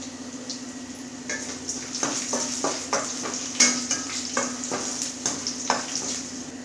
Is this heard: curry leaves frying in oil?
yes